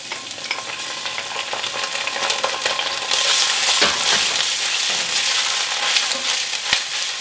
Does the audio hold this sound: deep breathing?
no